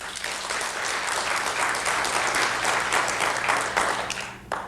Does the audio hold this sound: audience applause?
yes